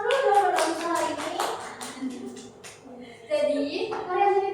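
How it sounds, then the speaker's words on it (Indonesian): Children in a classroom give a burst of hand clapping, mixed with an adult's voice and kids talking over it at moderate loudness. "Ayo, biar tepuk tangan dulu dong buat Nafisa hari ini."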